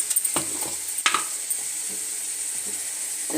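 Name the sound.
mustard seeds and ginger garlic paste frying in oil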